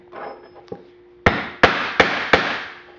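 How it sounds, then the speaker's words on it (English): A mallet strikes a metal hole punch driven through a shoe, four loud, sharp knocks in close succession after a soft scuff and a tap, each ringing briefly and then decaying. "you're going to need a mallet for this, and you're just going to hit it a few times to go all the way through"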